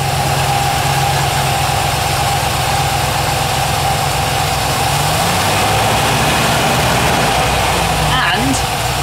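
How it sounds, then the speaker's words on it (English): A rebuilt Rover V8 engine idles steadily and smoothly with a low, even hum and faint vibration, running continuously up close. "Who would have thought if you build an engine properly, it runs smooth and doesn't burn oil?"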